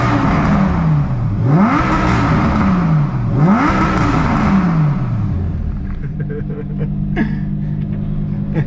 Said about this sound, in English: I'm gonna see what it's like to rev in here.